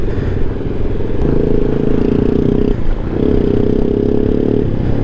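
A Honda Ruckus scooter's small engine buzzes loudly and close while riding off-road trails, revving in two sustained pulls separated by a short dip, with rattling clatter throughout.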